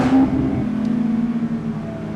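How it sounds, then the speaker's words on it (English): Porsche GT3 with a 600 hp DeMan 4.5-litre engine, Dundon plenum, GMG headers and exhaust, revving hard in a city: a loud, close burst that fades into a rough, decaying rumble. "revving it out."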